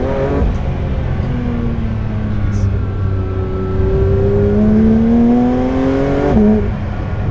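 A 2023 Porsche 992 GT3 RS on the road, its engine and exhaust rising through the revs with a smooth, climbing whine, then dropping and climbing again as it drives on, loud and close from inside the car.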